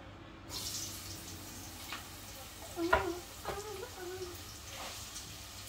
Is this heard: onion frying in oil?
yes